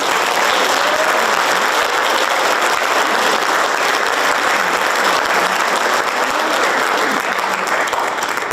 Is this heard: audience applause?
yes